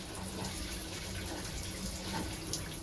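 Antifreeze poured into an RV sink P-trap in a fifth wheel, a steady close splashing, gushing flow of liquid that runs without a break.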